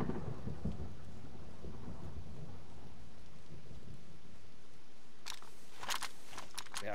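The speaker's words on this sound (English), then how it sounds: "It's raining." Video game rain hissing steadily throughout with low rumbling, and a few sharp crackling bursts near the end; no voices.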